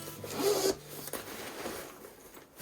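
A zipper slides open on an ASUS laptop backpack-style accessory case, one quick rasping pull close up and quiet, followed by soft rubbing of fabric.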